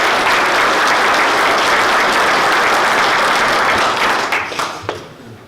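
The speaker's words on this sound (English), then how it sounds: "let's give our first speaker, Ivy Fife, a big round of applause" Loud, dense applause from a forum audience welcoming a speaker, a full crowd clapping steadily before thinning into a few scattered claps and fading out near the end.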